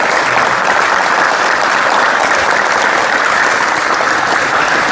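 A large audience at a spiritual gathering at a Kalki pilgrimage shrine applauds warmly in a steady, dense wash of clapping that holds evenly for several seconds without a break.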